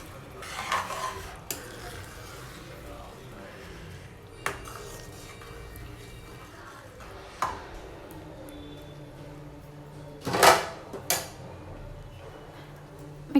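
Eggs and chopped spring onions mixed in a bowl, heard as sparse utensil clinks and scrapes against the bowl on a quiet background, with a louder clattering burst near the end.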